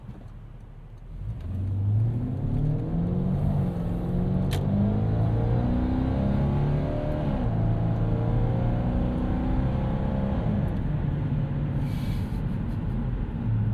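A 1998 Lexus GS 400 V8 pulls hard while driving, a smooth engine note climbing through the revs, steady and close from inside the cabin, with road noise underneath and no talk.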